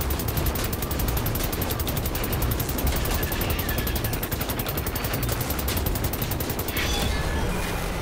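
Machine gun fire in Wolfenstein: The New Order, a loud, rapid, unbroken stream of shots lasting the whole stretch, set against heavy combat rumble with no talking.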